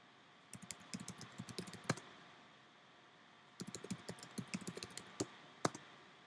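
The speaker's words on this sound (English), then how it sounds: "I have to type it before it falls off the page." Fast typing on a computer keyboard comes in two quick bursts of crisp, close clicks and key taps, with a quiet pause between them.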